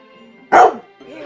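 A single loud, close dog bark, one sharp burst standing out from a quiet background, followed by a softer, faint trailing sound.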